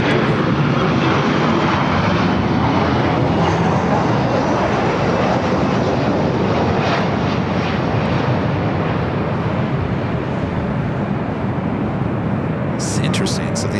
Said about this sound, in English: Flight headed to Seattle, flight 1083. This is the 737-800.